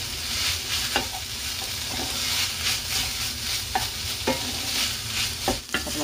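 Chicken and onion stir-frying in a hot pan with chili and spring onion just added. A continuous close sizzle runs throughout, broken by regular scrapes and taps of a utensil against the pan.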